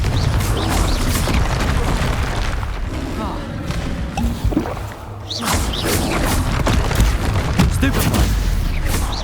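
Blasting Confringo spell explosions in the Hogwarts Legacy video game, a dense run of booming bursts and crashing impacts in quick succession, loud and continuous with only brief dips, mixed with other combat spell effects.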